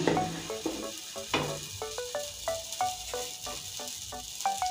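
An egg pancake fries in a pan with a close, bubbly sizzle, punctuated by a series of short clinks and scraping taps at an uneven rhythm.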